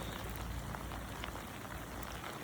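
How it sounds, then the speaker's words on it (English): Heavy rain pours down outdoors in a dense, steady roar of countless drops hitting surfaces, loud and unbroken with no voices. "it's dumping rain"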